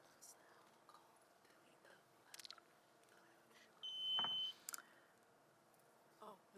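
A quiz-game buzzer sounds out of turn during an entomology quiz bowl round, a short steady electronic tone about a second long amid a quiet room with faint murmurs and small clicks.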